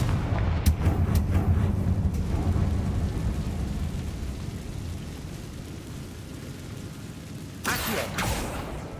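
A Confringo fire blast spell in Hogwarts Legacy, heard as a heavy booming explosion followed by a long rumbling decay, with a sharp crackling burst near the end.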